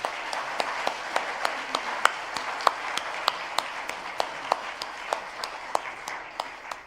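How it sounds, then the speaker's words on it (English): Congregation applauding at a church living funeral in Bayswater North, Victoria, a steady wash of many hands clapping with distinct sharp individual claps standing out, moderately loud and continuous throughout. "Let's give this wonderful group of people a big round of applause."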